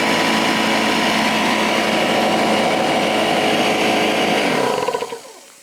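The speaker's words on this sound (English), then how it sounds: "I needed, or should I say I wanted, a new air compressor because I was sick of listening to this." An old, loud air compressor runs with a harsh, steady mechanical roar close by, then winds down and cuts off near the end.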